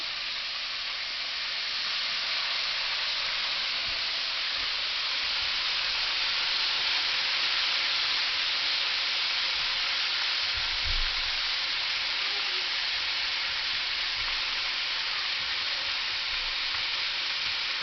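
Chicken pieces frying in hot oil give a loud, steady sizzle that hisses on without a break, close by, with faint occasional crackles and no voices.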